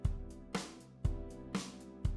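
Swung eighth-note hi-hat groove programmed in a DAW for a breakdown, with a kick-like low thump and bright hi-hat hits on each half-second pulse, looping evenly with no voice over it.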